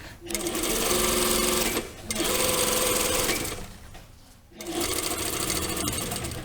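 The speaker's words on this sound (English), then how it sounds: "I'm going to sew at an angle here. So back tack." Sewing machine stitching an angled line and back tack across a lined jacket vent, running loud and steady in three bursts separated by brief pauses.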